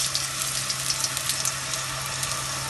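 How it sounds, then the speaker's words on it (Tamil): Mustard seeds and urad dal frying in hot oil, a faint steady sizzle with light crackling and scattered pops under a low background hum. "கொஞ்சம் உளுத்தம்பருப்பு பொரியட்டும்"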